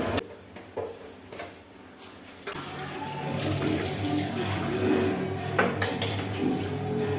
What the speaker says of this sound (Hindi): बर्तन खाली करके अब सारे बर्तनों को धो लूँगी